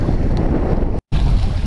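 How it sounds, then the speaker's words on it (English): Strong wind roars past the microphone on a sailboat crossing the Pacific, loud and buffeting, with a brief dropout near the middle. "There's plenty of wind out here"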